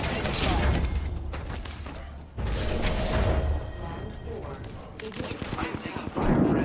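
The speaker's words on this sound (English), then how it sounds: "I am taking fire, friends." Automatic gunfire and weapon mechanisms from an Apex Legends match, with rapid bursts of shots and mechanical clicks running throughout, loud and close.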